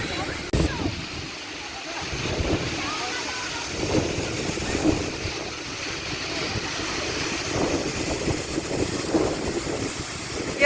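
A waterfall in Sikkim drops straight from a great height, giving a steady broadband roar with wind buffeting the microphone. It stays continuous and fairly loud throughout, and no one speaks over it.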